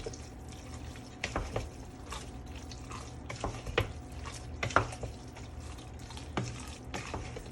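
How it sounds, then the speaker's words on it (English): Whipping cream being stirred into Southern baked mac and cheese in a pot, giving soft wet squelches and scraping strokes at an irregular pace, close and fairly quiet. "I'm gonna add another half cup of whipping cream. I'm gonna stir that in there."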